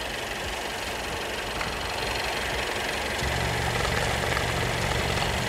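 A Mercedes engine idles with heavy blow-by, a steady close-up mechanical hum and rough chuffing that grows slightly louder and deeper partway through, with no talking.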